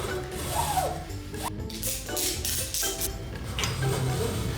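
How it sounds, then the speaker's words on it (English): A ratchet strap being tightened on a spinning truss rig built from speed rail, a loud, rapid clicking ratchet with repeated strokes close by, continuous through the stretch. "And if we add ratchet straps to the mix, boom, now we got a spinning truss."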